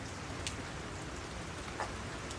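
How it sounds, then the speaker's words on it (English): Rain falls steadily over a home garden in October, a soft even hiss with a few faint drips and taps standing out. "rain sets in."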